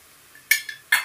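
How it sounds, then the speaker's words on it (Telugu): A large spoon taps and scrapes against a pan while adding sugar to a bitter gourd and coconut fry, giving two sharp metallic clinks with a softer scrape between them, close and clear with no talking. "ఇది పెద్ద స్పూన్ కాబట్టి నేను ఒక అర స్పూను షుగర్ అయితే వేస్తున్నాను"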